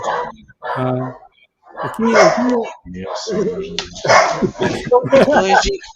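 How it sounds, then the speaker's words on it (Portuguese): A dog barks repeatedly in short sharp bursts, loud and close, with yips in between, interleaved with a person talking. "O cachorro tá bravo."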